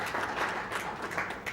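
Audience applause during a televised news segment on rural and remote health systems, a steady broadband wash of clapping held at even level for a second and a half, with no clear voice on top.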